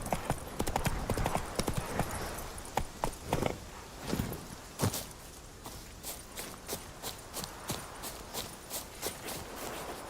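Horse hooves clip-clop at a steady walking pace in The Witcher 3, a dense run of sharp hoof hits early that settles into evenly spaced clops, fairly close and clear with no talking over it.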